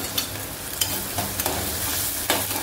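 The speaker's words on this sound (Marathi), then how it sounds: "हे तेलामध्ये चांगला परतून घ्यायचं। टोमॅटो आणि कांदा शिजतोय" Tomato and onion sautéing in oil for a traditional bombil batata dish, a close sizzle broken by repeated spatula scrapes and knocks against the pan, with no talking.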